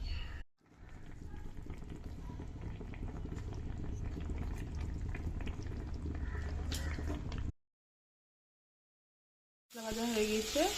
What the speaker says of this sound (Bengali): ঝোল ফুটে এসছে, এবার আমি মশলাটা দিয়ে দিব।